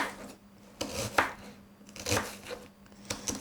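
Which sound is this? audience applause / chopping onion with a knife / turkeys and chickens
chopping onion with a knife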